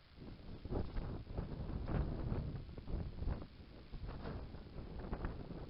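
Steady wind buffets the microphone with a low, rumbling roar that swells and eases, continuous and close, with no other clear sounds, outdoors while fishing.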